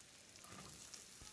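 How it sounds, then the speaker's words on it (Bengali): Chopped onion, ginger and green chilli fry in a pan with a quiet, steady sizzle and a few soft stirring scrapes, close and faint. "এবার দিয়ে দিলাম পেঁয়াজ কুচি"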